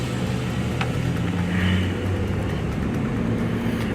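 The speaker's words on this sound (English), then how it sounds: "The car engine is nice and quiet for the most part, and steering is really nice and smooth." A six-year-old GMC Yukon XL Denali on a test drive, its engine a steady, fairly quiet low hum with road noise throughout, the pitch rising slightly as it accelerates.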